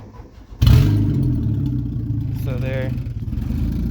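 A Volkswagen Golf Mk1/Mk2 engine cranks and catches, then settles into a steady, close, rough-sounding idle while someone talks over it.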